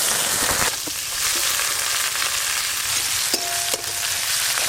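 Chopped onion sizzles steadily in hot mustard oil after a mustard-seed tempering, with occasional stirring scrapes and a continuous close frying hiss throughout.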